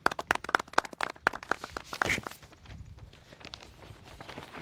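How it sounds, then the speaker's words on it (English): Scattered applause at a media press briefing: a run of sharp, distinct claps from a small group that thins out and fades into quiet room tone after about two seconds. "A round of applause, please."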